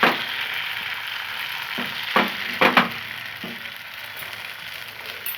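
A milk filling for dudh patisapta is stirred in a pan over medium heat, giving a soft continuous sizzle and hiss with several distinct scraping knocks of a spoon against the pan, and no voices.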